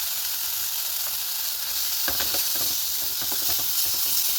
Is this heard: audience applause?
no